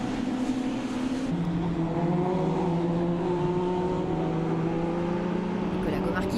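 Mitjet race cars run down the airfield straight at Nogaro, a sustained droning engine note that shifts pitch as a car holds speed, heard under steady commentary.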